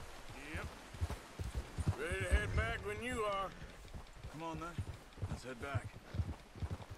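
Horse hooves clip-clop in a steady walking rhythm in Red Dead Redemption 2, fairly quiet. Someone talks over them almost throughout.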